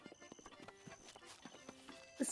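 Horse hooves clip-clopping in Breath of the Wild, a quiet, rhythmic series of light hoof hits against soft tonal game sounds, ending with a brief louder burst.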